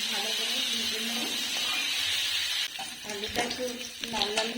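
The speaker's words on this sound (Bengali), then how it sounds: "আলুটা একটু লাল লাল হয়ে ভাজা হয়ে এসছে।" Potatoes frying in hot oil in a wok, a loud continuous sizzle that drops back partway through, followed by stirring scrapes and clatter.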